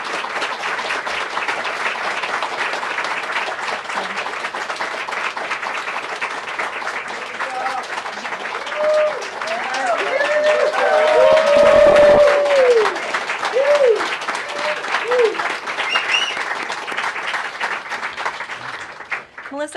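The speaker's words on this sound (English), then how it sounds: "You have the largest round of applause I've ever heard in this room." Sustained applause and clapping from a crowd of reporters in the White House briefing room honoring a retiring photojournalist, steady throughout and swelling louder midway, with a few voices and cheers mixed in.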